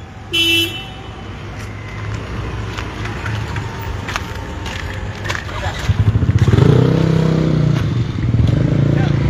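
A motorcycle rides past during a police arrest on a Manado street, its engine rising and growing louder in the second half amid traffic noise, a brief horn toot and people talking over the scene.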